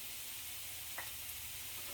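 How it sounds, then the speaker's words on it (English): Onions sautéing in a pan give a steady, soft sizzle with a faint hiss, quiet and continuous, with one brief tap partway through. "I want this to saute."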